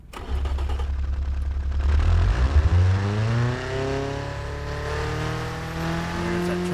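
A virtual car engine in BeamNG, a 500 HP JDM drag build, cranks and catches, then revs up quickly with a rising harmonic whine before settling toward a steady higher idle, loud and close with no talking.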